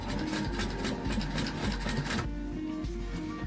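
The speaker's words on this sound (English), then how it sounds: "I'm just gonna finish off closing up that pocket with a basting stitch" Sewing machine running a basting stitch to close up a pocket on a sling bag, a steady rapid mechanical chatter of needle strokes, close and continuous, easing slightly toward the end without talk.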